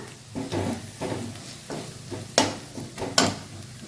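Onions with turmeric and chili powder fry in a pan for an egg curry. A spoon scrapes and stirs in steady repeated strokes over a soft, close sizzle.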